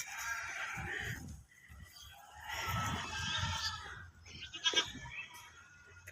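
Selected Black Bengal goats bleat loudly at close range in two long, wavering calls, followed by a short, sharper cry.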